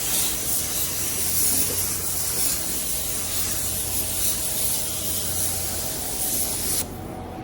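A spray gun lays a light dust coat of paint on a 1984 Chevy C10, a continuous loud hiss that holds steady and then cuts off abruptly near the end, with no talking.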